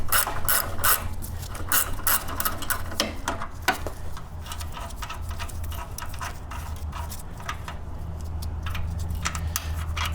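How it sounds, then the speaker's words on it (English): A speed wrench ratchets nuts loose on a DR wood chipper, model CP55047BMN, a fast, continuous metallic clicking close up that runs throughout with brief pauses and no talk. "Let's see if I can get my speed wrench."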